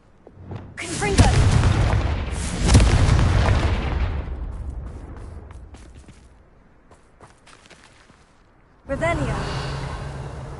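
A Confringo blasting spell goes off in a Harry Potter video game, with a shouted incantation and two heavy booming blasts that fade over several seconds, then a third sharp burst near the end.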